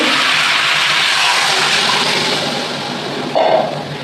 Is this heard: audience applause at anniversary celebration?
no